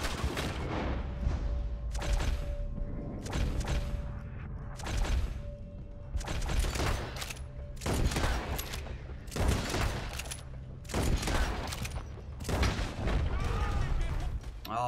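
Gunfire in the Western video game Red Dead Redemption 2 comes as repeated loud bursts and booming volleys across the whole stretch, mixed with game music and ambience.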